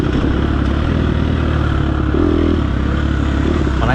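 A 250 dirt bike runs wide open in third gear during an offroad race, its engine a loud, steady, near buzz with a brief rise in pitch partway through, continuous for the whole stretch.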